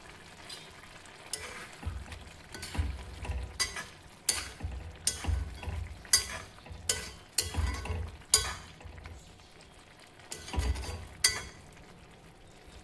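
Egg thokku masala frying in a pan while being stirred, a soft continuous sizzle broken by repeated scraping strokes and light clinks of a spoon against metal, close and without talk.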